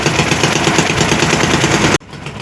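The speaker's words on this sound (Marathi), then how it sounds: "पुन्हा एकदा आमची होडी चालू होती" A small motor boat's engine drones loud and steady out on a dam reservoir, cutting off abruptly near the end and leaving quieter water and ambient noise.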